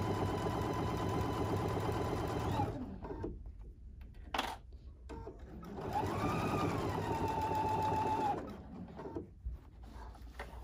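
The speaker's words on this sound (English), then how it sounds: "I'm going to sew it again another 1/8 inch away because I really want to secure these straps in here." An Epic 95Q walking-foot sewing machine stitches straps into a double wine bag, two runs of rapid mechanical clatter separated by a pause with small handling clicks.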